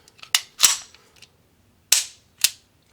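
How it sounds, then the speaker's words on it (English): An Arex Rex Zero 1 pistol is dry-fired and handled, giving several sharp, close metallic clicks in two uneven pairs separated by a short quiet gap, with no talk. "it still has that very nice trigger"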